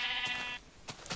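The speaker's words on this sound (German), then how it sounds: "Und da hat ein weißes Schaf gefressen." A sheep in the video game Minecraft bleats once with a bright, wavering, harmonic cry over its first half, followed by a few soft clicks and thumps of in-game activity.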